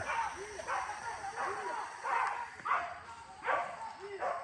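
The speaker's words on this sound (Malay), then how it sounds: "Oh, anjing tu mak." A dog barks repeatedly in short, evenly spaced yaps from a moderate distance, about seven or eight barks in a row.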